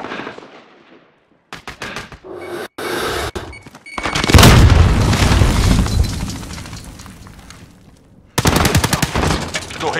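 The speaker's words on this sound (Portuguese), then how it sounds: "Estão atirando em mim!" Bursts of automatic enemy gunfire in a Call of Duty Modern Warfare conflict-zone match, sharp loud rattling volleys with pauses between, a heavy close burst mid-clip and another sustained volley near the end.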